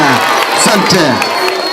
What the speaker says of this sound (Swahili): Wapi makofi jamani, makofi kabisa. Shangwe na vigelegele.